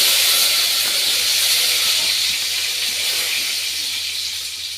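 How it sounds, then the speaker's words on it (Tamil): Mustard seeds and curry leaves hitting hot oil, giving a loud, steady hiss that slowly fades over a few seconds, close and with no talking. "எண்ணெய் நல்லா சூடாயிடுச்சு கடுகு சேர்த்துக்கலாம் கூட கருவேப்பிலையும் சேர்த்துக்கலாம்"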